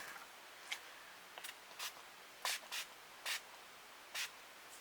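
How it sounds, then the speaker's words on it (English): A matte makeup setting spray gives several short, faint misting hisses, spaced unevenly and heard alone in a quiet room. "Go ahead and give ourselves a couple of spritzes."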